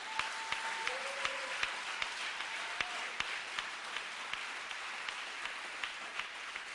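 A church congregation applauds, and the clapping carries as a steady, fairly distant wash of hand claps. A few brief tonal sounds cut in near the start.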